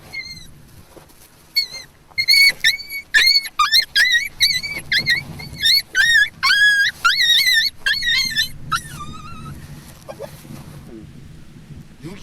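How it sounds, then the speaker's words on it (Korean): High, wavering yelps, whines and growls in rapid bursts from a wild dog puppy, agitated and fairly close, fading to quieter cries near the end. "비록 새끼지만 날카로운 이빨을 드러내며 거칠게 저항한다"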